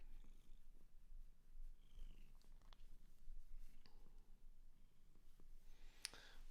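A sweet, affectionate cat purring softly and steadily close by, a low continuous rumble with faint clicks and a sharp brief noise near the end.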